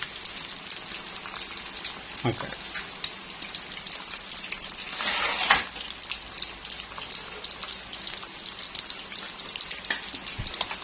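Turmeric-coated fish frying in hot oil, a steady crackling sizzle throughout with a brief louder burst of spattering midway, close and alone without talk.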